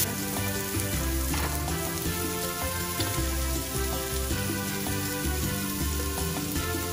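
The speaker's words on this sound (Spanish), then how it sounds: "en este aceite yo voy a echar mi cebolla" Onion sizzling in rendered bacon fat in a pan, a steady, crackling fry with dense popping that holds evenly throughout, close and without talk.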